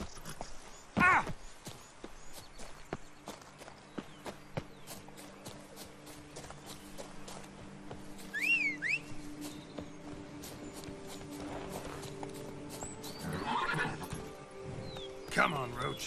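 Roach, a horse in The Witcher 3, lets out several whinnies among soft hoof steps, set against ambient game sounds and sustained tones.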